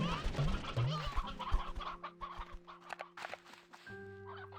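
Hens cluck in an enclosure in a video game, a few soft bursts of clucking over quiet background tones, with light footsteps, fairly faint overall.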